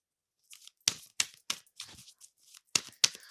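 A deck of tarot cards being shuffled in sharp, dry bursts, about eight riffles and flicks in an uneven rhythm, close and clear against silence, with no talk.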